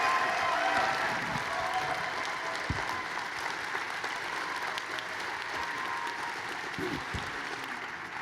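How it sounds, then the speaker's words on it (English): A convention audience at Calgary Expo 2014 applauds for Danny Glover, a steady wash of dense clapping from a large indoor crowd that holds evenly throughout. "let's have another big round of applause for Danny Glover"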